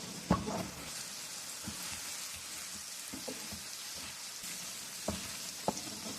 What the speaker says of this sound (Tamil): ஆல்ரெடி ஃப்ரை பண்ணி வச்ச ப்ரானை சேர்த்து நல்லா ரோஸ்ட் ஆகிற வரைக்கும் ஒரு அஞ்சு நிமிஷம் பெரட்டி விட்டுட்டு ஃப்ரை பண்ணுங்க